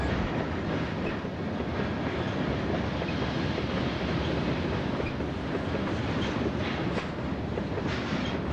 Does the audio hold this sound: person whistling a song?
no